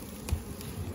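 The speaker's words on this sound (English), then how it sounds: "maybe do some videos here on what you can do to keep your bees from swarming" Honeybees buzz steadily around an open hive during a beekeeping inspection, a close, continuous hum with a faint soft knock.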